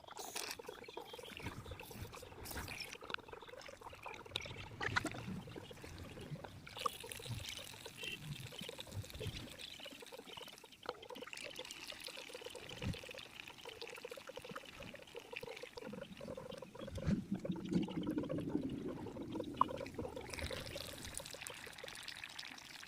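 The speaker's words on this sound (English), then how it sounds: "we will pour this into the battery" Baking soda solution is poured into a car battery with a quiet, uneven trickle and splash that goes on for over twenty seconds, close up and faint, with some handling clatter and no talking.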